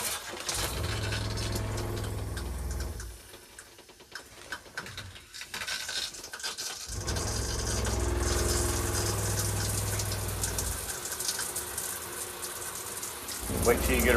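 A camper trailer shower runs during winterizing, a loud steady gush of spraying water that drops briefly to a quieter trickle before surging again, with a low pump-like rumble underneath.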